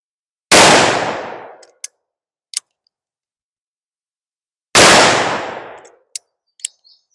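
Two loud, booming shots from a Colt Walker black powder revolver, each followed by a long decaying tail, with a few sharp metallic clicks after each blast; no talking.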